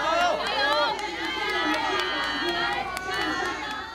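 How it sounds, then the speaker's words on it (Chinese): Volunteers at a highway marathon with over 10,000 runners shout and cheer loudly from the crowd, overlapping excited voices and high calls bursting continuously near the microphone. "有更多名志工拿着造血干细胞捐赠标语，在人群中高声替选手加油"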